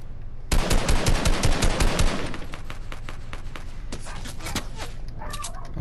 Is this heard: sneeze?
no